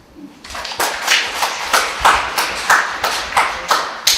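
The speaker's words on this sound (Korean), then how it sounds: "네, 박수 한번." Small audience clapping after a poetry reading, a close run of distinct, steady claps that starts softly and builds to a firm rhythm.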